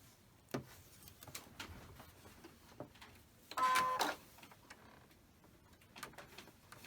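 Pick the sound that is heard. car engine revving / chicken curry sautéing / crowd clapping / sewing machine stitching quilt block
sewing machine stitching quilt block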